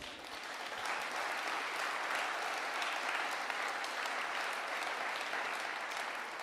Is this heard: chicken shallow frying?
no